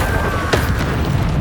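Incendio fire spell cast in Hogwarts Legacy: one sharp fiery burst hits midway, briefly loud over a continuous bed of game background noise.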